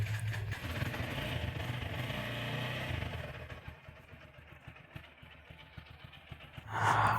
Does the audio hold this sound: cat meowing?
no